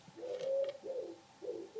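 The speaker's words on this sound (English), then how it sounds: "You can hear the pigeon in the chimney." A pigeon coos inside a chimney, three hollow, resonant phrases in a slow, rising-falling rhythm, close and fairly clear against a quiet room with no talk.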